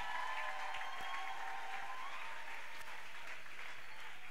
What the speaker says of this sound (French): Exagérons les acclamations.